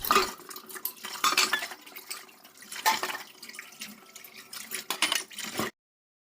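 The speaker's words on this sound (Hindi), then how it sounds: "जैसे दूध के भगोने हो गए और भी छोटे मोटे जो बर्तन होते हैं, मैं अब इसके किचन क्लीन करने के बाद मैं इसे धुल लेती हूँ।" Milk pans and small utensils are washed in a home kitchen sink: metal clatter and scraping mix with running water in uneven bursts, near and unaccompanied by talk.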